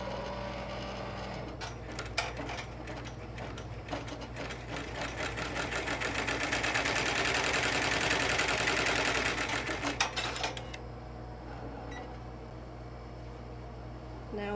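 An embroidery sewing machine runs a stitch on a zipper bag in a rapid, rhythmic mechanical chatter. The motor hum swells louder in the middle and then fades as the run slows and stops.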